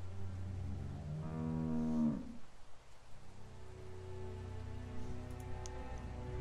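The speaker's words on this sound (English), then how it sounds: "How do you like that cow, Clem?" A single long, close cow moo from The Walking Dead video game (Episode 2, Starved for Help), swelling and then cutting off over a steady rain-like hiss, with no one talking.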